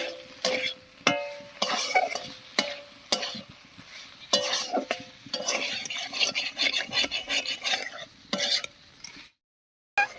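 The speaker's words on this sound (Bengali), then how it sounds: "এবারে মশলার সঙ্গে সব কিছু খুব ভালো করে মিশিয়ে নেব" Pointed gourd and potato, already fried, stirred into a spice paste in a pan with a spoon. The spoon scrapes and clinks in an irregular rhythm under a soft sizzle, close and fairly loud, then stops abruptly near the end.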